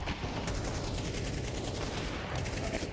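Dense gunfire rattles continuously during an esports match of a tactical shooter game, with rapid overlapping shots and bursts held at a steady loud level for the whole stretch.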